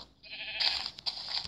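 A sheep bleats nearby on a farm, one short wavering cry that rises after a brief pause, clear and fairly loud over faint outdoor background.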